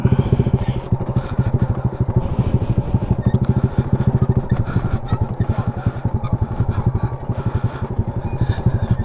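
A motorcycle rides along a road in the Ganggang Highlands of Sorsogon, its engine putting in a steady, rapid rhythm close by for the whole stretch, with no talk over it.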